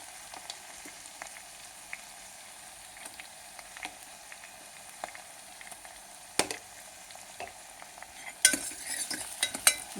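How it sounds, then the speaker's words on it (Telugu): Onions, green chillies and ginger-garlic paste frying quietly in a pan for an aloo gobhi curry, with a faint low sizzle, occasional utensil taps, and a louder sputtering burst toward the end. "అల్లం వెల్లుల్లి పేస్టు, ఉల్లిపాయలు, పచ్చిమిరపకాయలు వేగనిచ్చి వేగడానికి పెట్టానండి"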